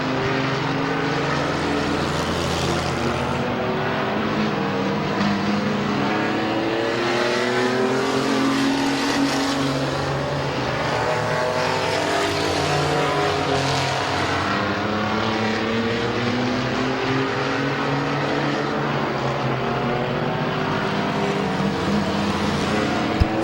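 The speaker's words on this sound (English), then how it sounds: "And Locker once again to the outside of Schweitzer off of turn number 2." Race cars at Midvale Speedway, a dirt oval, roaring steadily as they come off a turn, with overlapping engines rising and falling in pitch, loud and continuous, with no talk over them.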